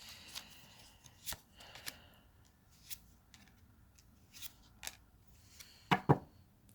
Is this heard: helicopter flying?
no